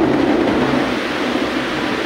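Thunder rumbling during a heavy rainstorm, a steady deep roll under a dense wash of rain, loud and continuous throughout with no voices.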